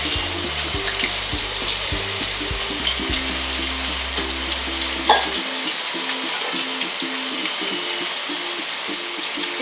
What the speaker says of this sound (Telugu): ఇది కూడా సేమ్ ఇలాగే ఫ్రై చేయాలి.